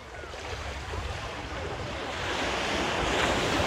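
Ocean waves wash steadily onto a Costa Rican beach, a broad, continuous surf roar that swells louder toward the end, with some wind buffeting the microphone and no voices.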